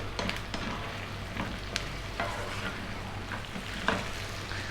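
Sweet potato pieces frying and being tossed in a pan for a vegan Indian sweet potato curry, a steady close sizzle with scattered scraping stir clicks, no talk.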